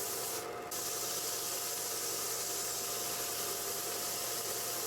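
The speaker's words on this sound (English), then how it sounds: "Moved on to the belt sander, just to sand down some of the edges, give a nice finish." A belt sander works the edges of a poplar wood picture frame, giving a steady, close-up abrasive hiss over a constant motor hum, interrupted only briefly near the start.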